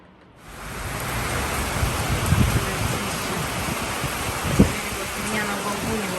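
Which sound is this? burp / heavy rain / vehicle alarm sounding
heavy rain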